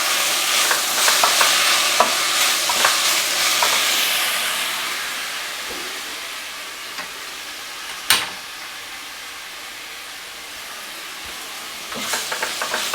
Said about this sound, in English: Get some salt in there, some pepper in there. I'm going to give this a stir.